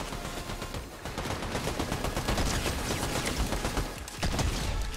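Shotgun blasts and other gunfire in a Fortnite Battle Royale match crackle densely and loudly in rapid overlapping bursts, a near-continuous barrage with no voice.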